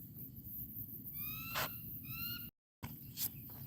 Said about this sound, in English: I hear you up there squawking.